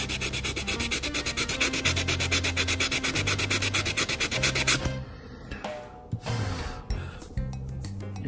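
Rapid rhythmic rubbing of sandpaper against a saxophone mouthpiece, quick back-and-forth strokes for several seconds, then slower scattered scrapes.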